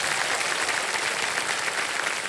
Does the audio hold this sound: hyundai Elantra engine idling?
no